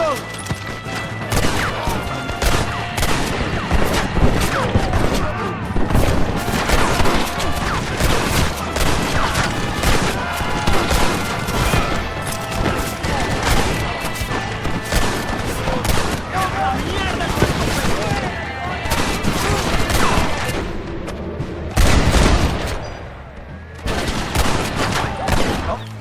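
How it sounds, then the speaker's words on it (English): Dense, continuous machine gun fire in a Red Dead Redemption battle, rapid bursts layered with other gunshots and booms, loud and close throughout with a brief heavier blast near the end. "They have a machine gun!"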